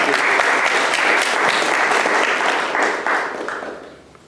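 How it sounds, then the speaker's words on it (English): An audience applauds Preeti at an India Discovery Center lecture on India's cultural history, a dense, sustained round of clapping that tapers off toward the end. "Would you please, in absentia, applaud Preeti and give the gratitude."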